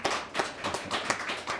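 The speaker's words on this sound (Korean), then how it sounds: "박수 한번 치시죠" A church congregation claps for a family's newborn daughter, brief rhythmic hand claps at moderate distance with distinct individual strikes, no talk over them.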